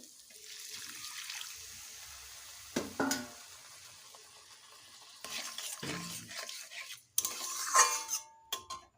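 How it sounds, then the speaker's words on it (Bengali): Eggplant cooked with poppy seed paste, mustard and water is stirred in a pan, giving soft scraping and clinking with sizzling and watery splashes in bursts, louder near the end, with no talking. "কিছুক্ষণ একটু নেড়ে চেড়ে নেব"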